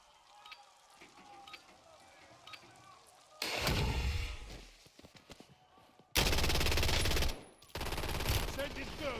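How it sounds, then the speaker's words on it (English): Gunfire in Call of Duty Black Ops 6 on Warzone: loud bursts of automatic fire in two sustained stretches, after a quieter passage of battlefield noise and faint voices. "I'm taking effective fire."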